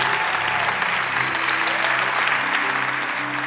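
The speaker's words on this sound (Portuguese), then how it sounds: "Você pode aplaudir ao Senhor por esse dia e pela vida também dos nossos pastores." A church congregation applauds during a service with dense, steady clapping that fills the room and stays loud and even, while a voice is faintly heard under it.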